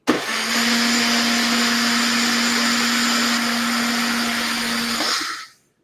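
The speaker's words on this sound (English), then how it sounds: "I'm such a fan of this little Tri-Best blender that I use it for all my dressings" A small Tri-Best blender whirs loudly while mixing salad dressing, a steady high motor drone running for about five seconds before spinning down and stopping.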